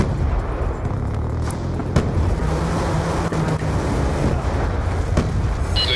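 Airstrike explosions in a military video game rumble as deep, heavy booms under a continuous roaring wash, with a sharper blast near two seconds.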